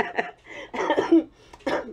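A short fit of harsh coughing, several rough bursts close to the microphone, broken by brief pauses.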